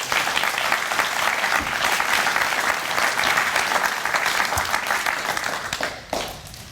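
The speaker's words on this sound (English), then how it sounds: "let's give Owen another round of applause" A reception audience at a Boy Scouts of America distinguished citizen award event gives Owen a sustained round of applause, dense and loud, tapering off near the end.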